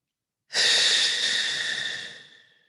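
A deep, audible breath begins after a brief silence, then flows out as a long, breathy exhale that slowly fades away during a guided evening breathing practice; no words are spoken.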